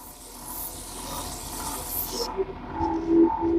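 Sandpaper is rubbed against a wooden bowl, a steady close rasping and hissing that runs continuously, with a few faint tonal background sounds toward the end and no talk.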